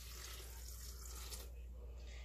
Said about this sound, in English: So then you put your 1 cup of water in there